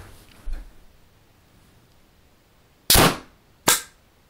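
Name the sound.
pneumatic airsoft gun firing shots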